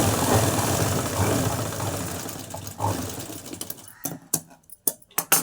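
A sewing machine runs steadily while stitching the front piece of a blouse at the armhole, a continuous close mechanical whir that breaks into short separate bursts of stitching near the end.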